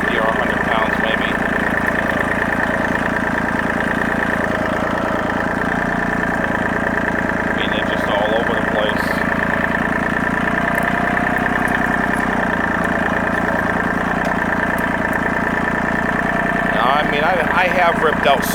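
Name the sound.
tractor engine idling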